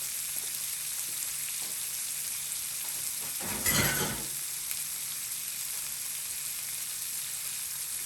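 Beef slider patties cooking slowly on low heat, a steady soft sizzle throughout with one brief louder burst near the middle.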